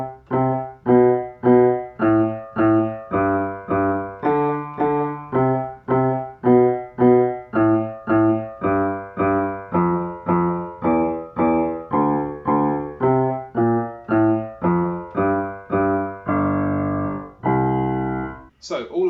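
A simple, steady piano bass line from a theme tune plays alone, a long run of evenly spaced, separately struck low notes with a slightly longer held note near the end.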